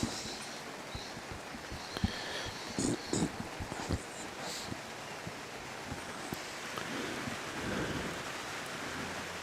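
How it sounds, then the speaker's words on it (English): Steady rain falls across an outdoor lawn bowls green at a state championship mixed pairs match, a continuous broadband patter with scattered drop hits and faint low rumbles, carrying on throughout with no talk. "As the rain starts falling, once again a little bit heavier."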